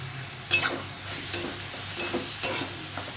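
Two green chillies going into a hot pan for a soybean curry, a close sizzling fry with a few sharp stir-scrape accents spaced across the stretch, steady and without speech.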